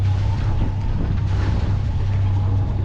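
A sailboat's engine drones steadily at cruising speed of 2200 RPM offshore near San Diego, a constant low hum mixed with wind noise and no breaks.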